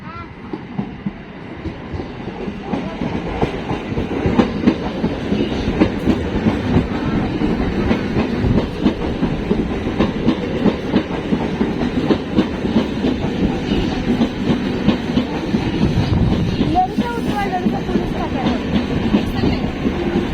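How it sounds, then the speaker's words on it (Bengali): Passenger train pulling into a station platform, loud continuous rumble and rhythmic clatter of wheels over rail joints close by, with people talking over it. "এই যে আমাদের ট্রেন ঢুকে গেছে।"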